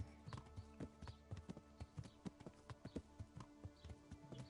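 Horse hooves in a video game clip-clop in a quick, even rhythm, a steady patter of hard taps at walking-to-trotting pace, close and without voices.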